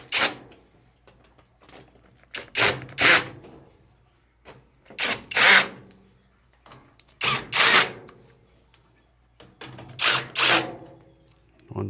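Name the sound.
power drill tightening screws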